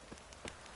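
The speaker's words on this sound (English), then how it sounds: "This downpour's a bastard, it is." Rain falling in the video game The Witcher 3, a faint, steady patter of drops on surfaces with a few slightly louder splashes, heard alone without speech.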